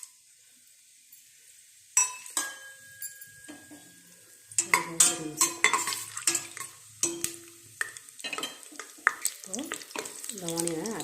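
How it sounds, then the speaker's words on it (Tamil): Whole spices drop into hot oil for chicken biryani and crackle in sharp bursts, joined by the clink and scrape of a spoon stirring in the pan, close and fairly quiet. "இப்போ எண்ணெய் சூடாயிடுச்சு. நம்ம இந்த ஹோல் ஸ்பைசஸ், இந்த மசாலாக்களை நம்ம போட்டுருவோம்."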